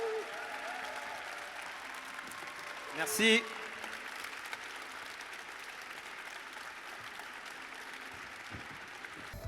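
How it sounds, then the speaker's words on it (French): An audience applauds the France 5 team at an event, a steady spread of clapping from a crowd that runs throughout, with a brief louder burst of voices early on. "Merci de faire un tonnerre d'applaudissements"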